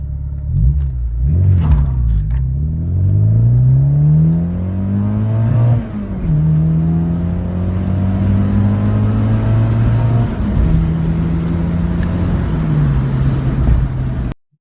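A stock Mk2 Golf GTI 16v runs a 0-60 mph acceleration pass, its engine note climbing loudly through each gear, then dropping briefly at the shifts before rising again, close and sustained until a sudden cutoff.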